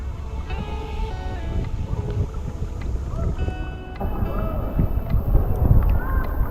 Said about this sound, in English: I'll feel better when you stop paddling.